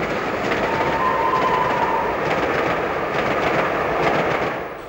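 Train noise from LNER A3 steam locomotive 60054 Prince of Wales hauling a civil engineer's departmental train, a loud steady rumble and rolling rattle of wagons passing close by, fading slightly at the end.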